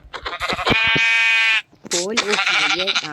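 A loud, drawn-out goat bleat from Minecraft rings out, followed by a second wavering bleat, with electronic game-like clarity and no talk.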